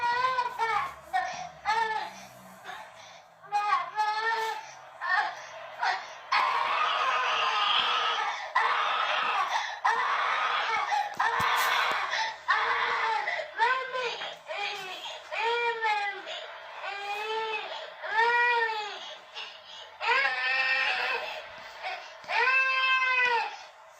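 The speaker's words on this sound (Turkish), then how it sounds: "bir bebeğin beşiğine tırmandığı ve iki ayak üzerine durup annesine veya babasına sesli bir şekilde bağırdığını görüyoruz" A small baby standing in a crib shouts and wails loudly. Repeated rising and falling cries and yells come close together, with short breaths between them, throughout.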